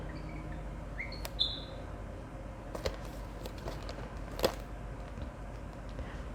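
Birds chirp outside a craft room, a few sparse, faint high tweets and short calls scattered over a steady low indoor hum, with no talking.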